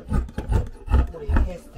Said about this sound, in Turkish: Tam ortadan kesiyorum. Çünkü buraya cep koyacağım.